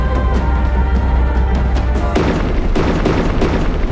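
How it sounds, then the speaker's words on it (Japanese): Spears stick into enemies and burst in the video game NieR Gestalt, heavy booming explosions over a deep game soundtrack, a loud thump recurring several times. "刺さって爆発する技が手に入ったのかな。"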